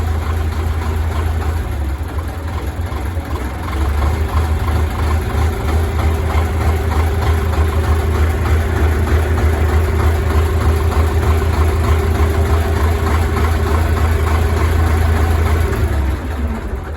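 A YUMZ 6AKL tractor engine runs steadily at raised revs throughout, a loud continuous low rumble with a steady mechanical hum and no talking.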